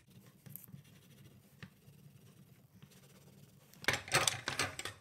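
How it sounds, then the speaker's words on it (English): Paper for an origami bookmark is coloured in with a marker or pencil, giving soft, close scratchy strokes that grow louder and quicker near the end. "I'll color this one while I'm at it."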